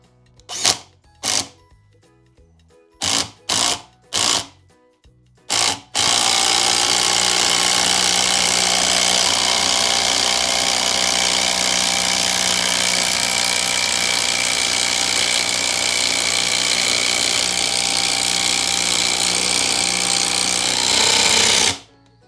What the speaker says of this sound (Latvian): skrūvgriezim to būs ļoti grūti skrūvēt iekšā kokā